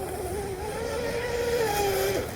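Twin-motor Deltaforce 29 RC boat with dual counter-rotating 4316 props in a wide full-throttle turn: a steady high electric motor whine with shifting pitch, held continuously and fairly close over water and wind noise.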